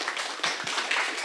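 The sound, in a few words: audience applause welcoming professor David Berenstein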